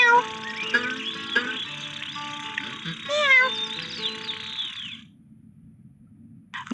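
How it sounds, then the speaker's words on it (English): A kitten meows in a run of high, wavering mews over a soft musical backing, loud and close for about five seconds, then fading to quiet. "Grock got help from Sam to get the kitten down."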